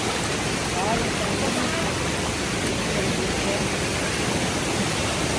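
Water rushes steadily along a mountain path after rain, a dense, unbroken roar of flowing current, close and loud throughout with no voices.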